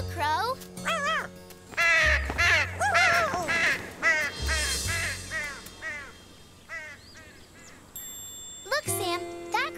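A crow caws in a children's cartoon soup-making scene, several harsh rising calls in quick succession mixed with animated voices talking over and between them, with a bright jingle near the end.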